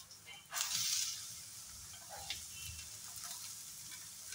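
Crushed garlic and chopped onion drop into hot oil for a drumstick-leaf (sajna) dish. A short burst of sizzling comes first, then a soft, quiet frying hiss continues.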